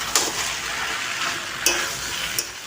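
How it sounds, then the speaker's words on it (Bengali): Jackfruit and potato frying in masala in a pan, with a soft continuous sizzle and a few sharp scrapes of a spoon against the pan, heard close. "এঁচোড় আর আলুর সাথে মশলাটাও আমি ভালোভাবে কষিয়ে নেব।"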